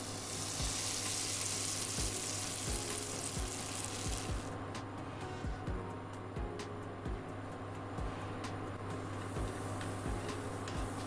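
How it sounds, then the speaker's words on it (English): Onions, cumin seeds and ginger sizzle steadily in hot oil, a constant close frying hiss with a sharper crackle at the start and soft intermittent stirring taps throughout. "Sauté until the onions turn golden brown."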